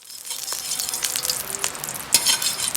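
Cooking oil heating in a pan for chopsuey gives a steady, close sizzle and crackle, with a few sharper pops and light stirring scrapes, and no talk over it.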